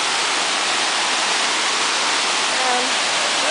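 Waterfall in a mossy, slippery wilderness setting near Skagway, a steady loud broadband roar of falling water that runs unbroken and close throughout.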